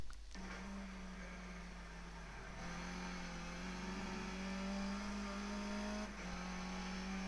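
Skip Barber race car engine in iRacing at Donington Park National Layout, a steady loud drone held at high revs through the lap with brief dips as the throttle lifts, no voices.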